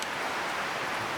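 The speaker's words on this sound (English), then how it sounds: "We've got a good amount of rain going on here at the farm at the moment." Rain drums steadily on high, uninsulated tin shed roofs at a farm, making a dense, even hiss with no pauses and no voices.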